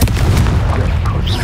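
The Confringo blasting spell cast in Hogwarts Legacy, a loud booming burst with rumbling low end and crackling tail, close and brief.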